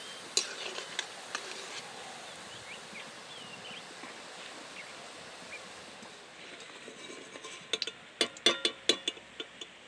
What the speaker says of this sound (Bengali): বাকি বড়াগুলো আমি একই রকম করে ভেজে নেব